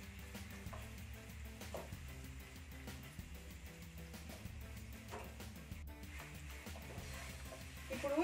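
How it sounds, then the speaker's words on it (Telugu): Fried chicken lollipop pieces stirred through sauce in a pan, giving a steady close sizzle with scraping stir strokes throughout and a louder clatter at the end. "ఇప్పుడు ఈ సాస్ అంతా చికెన్ ముక్కలకు పట్టేటట్టు బాగా కలుపుకోవాలి"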